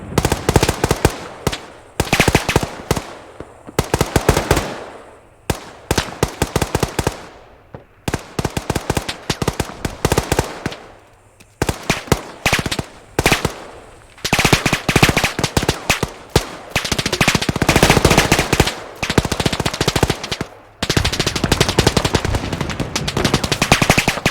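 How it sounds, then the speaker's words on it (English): Long-range firefight in ARMA 3 between World War II, Vietnam-era and modern US troops: loud machine-gun bursts and rapid rifle shots crackle in stuttering volleys with brief gaps, growing heavier and more sustained toward the end. "Very long range gun battle between these two sides then."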